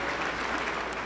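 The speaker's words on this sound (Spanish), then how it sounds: "Un aplauso para el Señor Jesús" A church congregation applauds together in a short burst of dense, steady clapping that fills the whole moment, with no voices standing out above it.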